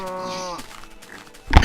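A Minecraft cow lets out one long, loud moo with a steady voiced tone, then trails off into quieter game background before a sharp louder burst at the end.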